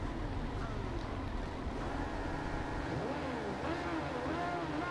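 An MV Agusta Brutale 800 motorcycle engine in the Ride 2 racing game: a steady rumbling engine drone with rising and falling revving tones, moderately faint, mixed with game background noise.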